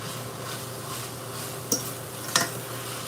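Candied yams in butter being turned in a pan, with two crisp clinks of a utensil against the pan over a low, steady kitchen background.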